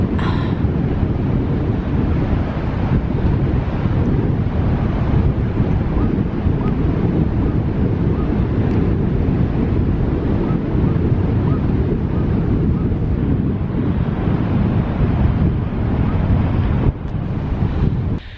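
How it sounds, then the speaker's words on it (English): Bitter cold wind roaring and buffeting the microphone at Westward Ho beach in Devon, with the broad rush of surf underneath, loud and continuous. "oh, that wind was bitter"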